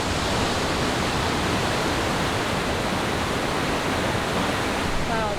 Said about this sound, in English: Wow, that water is raging.